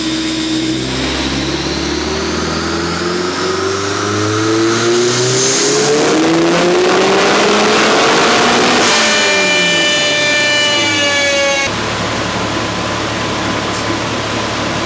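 A tuned car engine, making about 507 wheel horsepower, revs up hard through a full pull on a dyno, its pitch climbing steadily before cutting off abruptly and dropping back to a steady idle; loud and close, with no talking.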